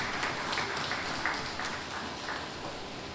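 Audience at an awards dinner and legacy ceremony applauding, a steady dense wash of clapping held at even loudness throughout with no talk over it.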